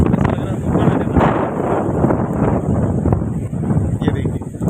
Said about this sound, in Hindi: हवा भी तेज चल रही है